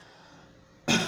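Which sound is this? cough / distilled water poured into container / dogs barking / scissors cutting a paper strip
cough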